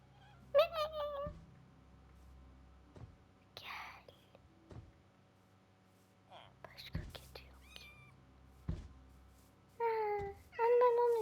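Cat meowing in the Minecraft video game, a few short mews scattered among whispered and gasping speech, with quiet game background between them.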